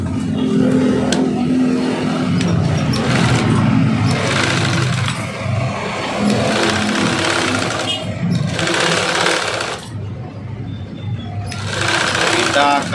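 A sewing machine stitches the lining of a vest in several bursts of fast mechanical whirring, separated by short pauses, heard up close.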